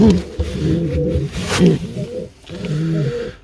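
Low, throaty cooing of pigeons, several overlapping coos in a repeating rolling rhythm, close by with some flapping and rustle.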